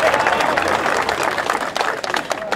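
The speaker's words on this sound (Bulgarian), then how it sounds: "Аплодисменти за Георги Ванчев." Crowd applause rings out for wrestler Georgi Vanchev at a Bulgarian folk wrestling fair, a loud, dense burst of clapping from spectators, steady throughout with voices mixed in.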